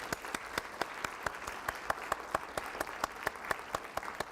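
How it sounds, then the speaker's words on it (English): Sparse, evenly spaced hand claps ring out from a small conference breakfast audience, a thin round of applause at moderate distance. "Let's give them a round of applause."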